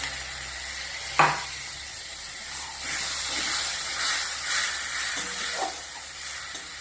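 A splash of water hits a fried spice paste of chili powder and green chili paste for a fish curry, with a sharp clink, then a swelling hiss and sputtering sizzle that lingers before easing off.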